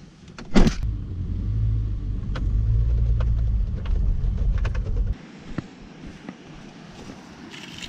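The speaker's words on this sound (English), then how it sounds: "Gonna hop in the truck and start driving downstream and make stops at any place that looks good." A pickup truck drives along a road near a trout stream, its engine rumbling steadily for several seconds before dropping to a quieter idle-like hum with a few clicks and knocks.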